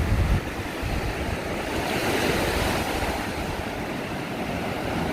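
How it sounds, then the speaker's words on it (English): Ocean waves wash continuously onto a beach, a loud, broad roar of surf mixed with wind buffeting the microphone throughout. "The ocean is looking gorgeous there, isn't it?"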